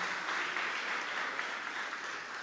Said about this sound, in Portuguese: Vamos aplaudir Jesus com bastante alegria.